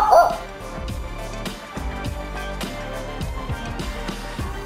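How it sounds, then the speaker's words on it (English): A Robo Wunderkind robotic toy dog barks through a speaker with a string of short, electronic-sounding barks and yips in quick succession, at moderate volume and fairly close. "let's make our dog bark while he's doing that"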